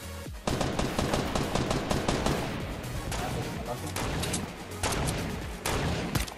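Rapid bursts of automatic gunfire in Fortnite, loud and dense, pausing briefly between volleys, with players talking over the shooting.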